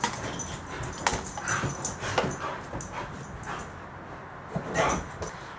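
Several dogs bark and whimper in short scattered bursts against steady background noise, fairly faint and at a middle distance, with no talking.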